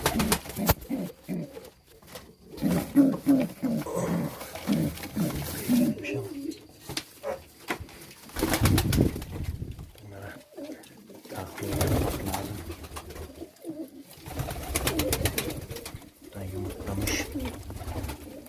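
Pigeons coo repeatedly at an evening feeding in a loft, soft burbling calls close by, with a person talking intermittently over them.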